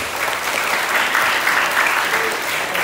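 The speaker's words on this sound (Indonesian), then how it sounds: "Tepuk tangan dulu buat kita." A crowd at an indoor event breaks into applause, a loud, continuous patter of many hands clapping together, swelling slightly in the middle and carrying on without speech throughout.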